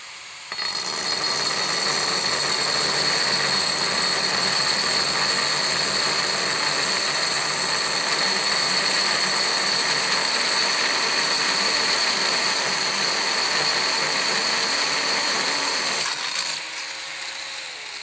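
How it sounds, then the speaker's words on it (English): A Nano 1 3/8 inch segmented diamond high-speed core bit with a brazed barrel drills continuously, a loud, steady high whine with grinding texture that runs without a break, then drops off near the end. "This is our newest high-speed core bit from Nano."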